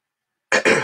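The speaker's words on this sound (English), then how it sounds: "you need to clear your throat" A man clears his throat in two quick, close, harsh bursts after a moment of silence.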